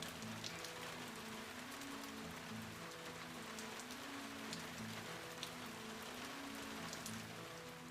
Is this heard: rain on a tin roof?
yes